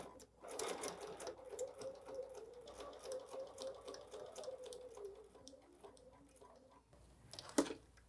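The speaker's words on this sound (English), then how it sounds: "So I'm just going to stitch a row or two" A sewing machine stitches a row or two of quilting in gold thread with a quick, steady mechanical chatter. The stitching runs continuously for several seconds, then gives way to a soft handling clunk near the end.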